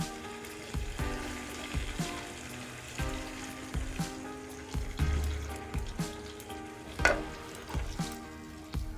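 A little water added to an eggplant curry frying in a pan brings on a steady sizzle, with a run of soft, regular taps and scrapes and a brief louder burst partway through.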